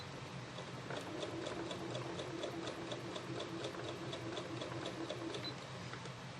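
Sewing machine stitching a quilt, running steadily and quickly with a fine, even ticking rhythm throughout, close and continuous with no talk.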